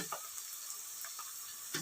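Onion pieces sizzle and fry in a pan for a home-cooked mutton curry, a steady soft hiss with faint stirring clicks throughout, quiet and close, with no talking.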